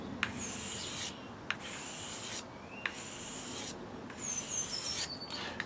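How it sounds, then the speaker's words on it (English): A wood carving knife blade being sharpened, with repeated rubbing, rasping strokes that come close and steady, broken by a few short pauses and small clicks. "make sure that you're treating both sides of the blade equally, a bit like when you're sharpening any other knife"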